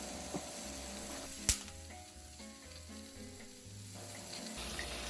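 Tomatillos and jalapeños roasting in a pan give off a steady close sizzle, with brief scraping and clatter as they are tossed from side to side and a sharp knock partway through.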